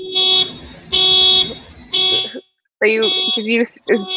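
A car alarm blares in loud repeating bursts of steady electronic tone, each cut off by a short gap, with a person talking over and between the blasts near the end.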